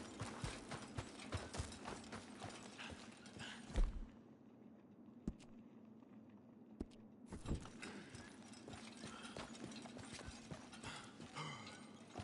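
Horse hooves in Red Dead Redemption 2: faint, irregular clip-clops that stop briefly in the middle and then pick up again, with a few sharp single clacks in the lull and no talking.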